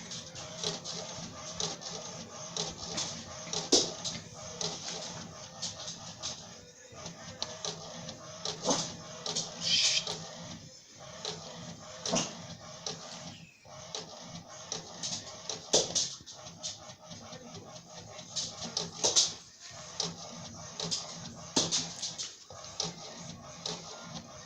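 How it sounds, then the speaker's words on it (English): A compression testing machine's built-in printer prints test results, giving a steady, fairly close mechanical chatter of rapid feed and print-head ticks that runs continuously with small bursts and pauses. "Now it's printing."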